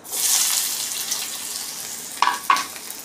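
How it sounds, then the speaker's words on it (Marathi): Finely diced potatoes tipped into a hot kadai for a soft baby-friendly potato fry, a bright sizzle that fades into gentle frying, followed by two sharp clinks of utensils near the end. "आपली कढई गरम झालेली आहे। आता हे बटाटे बारीक बारीक पीस केलेले आहे, हे याच्यामध्ये टाकून देऊया"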